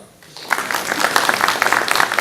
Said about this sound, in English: So give her the clap for that one.